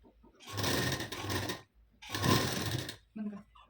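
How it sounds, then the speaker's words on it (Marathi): A sewing machine sews a half-inch seam joining the cross strip of a lined katori blouse in two steady whirring runs, close and fairly loud, followed by a short burst of speech at the end. "तिला आता 1/2 इंचाची शिलाई देऊन घेते मी"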